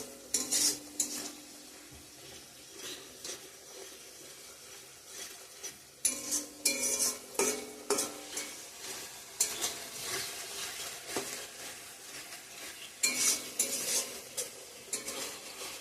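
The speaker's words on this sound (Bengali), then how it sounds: "ভালো করে কষিয়ে নেব এখন" Masala for a potol-aloo (pointed gourd and potato) paneer curry, with cumin powder and salt, is stirred and fried in oil in a pan, with steady sizzling under repeated scraping and clinking of a spoon against the pan, no talk.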